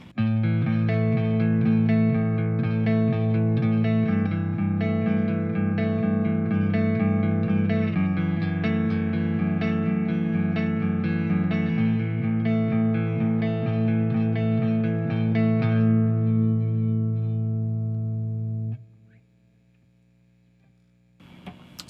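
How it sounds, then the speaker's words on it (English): A worship song intro plays as slow, sustained keyboard chords, rich with effects, changing every few seconds before fading out into near silence. "Let me play the intro for you first."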